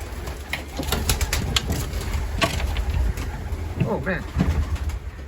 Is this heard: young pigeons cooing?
yes